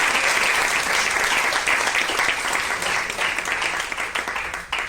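A church congregation breaks into strong applause during a sermon, a loud, sustained wash of clapping that fills the room and thins a little near the end.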